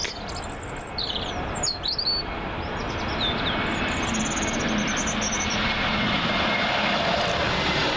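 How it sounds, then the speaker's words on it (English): A Swiss Airbus A321neo from Zurich roars steadily overhead on final approach to Heathrow, the loud jet rumble building through the clip while small birds chirp and tweet nearby in the first few seconds. "Next up, Swissair A321neo, coming from Zurich."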